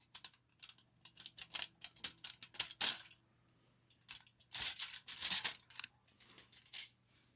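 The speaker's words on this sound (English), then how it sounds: "we grab tinfoil, and then we cut out a little sliver that's a little bit less than a centimeter" Scissors snipping a thin sliver of tinfoil for fixing a PS4 controller's trigger buttons, producing quick clusters of close, crisp snips and crinkles with brief pauses between bursts and no voices.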